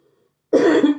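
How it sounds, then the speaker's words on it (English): A single harsh cough from someone with a cold bursts out after a moment of near silence, loud and close. "Pardon the coughing."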